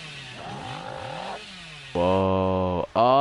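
A chainsaw in the video game Dead by Daylight revs in bursts: a wavering, rising whine first, then two loud, steady buzzing blasts separated by a brief cut-off.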